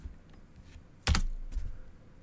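Computer keyboard typing on Windows, a short burst of key clicks near the middle, close and fairly quiet over a low room hum.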